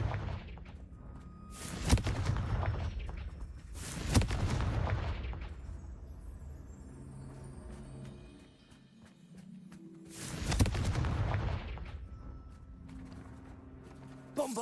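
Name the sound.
Confringo fire blast spell explosions in Hogwarts Legacy video game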